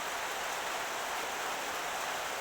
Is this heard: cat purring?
no